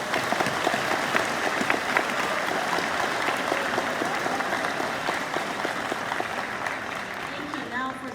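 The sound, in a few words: audience applauding award recipients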